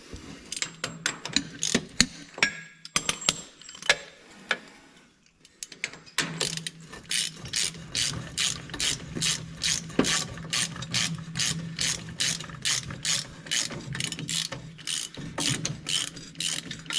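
Ratchet wrench clicking steadily as a part is tightened on a 1967 MM302 diesel tractor, with sparse irregular clicks first, then a long fast even run of loud, close pawl ticks.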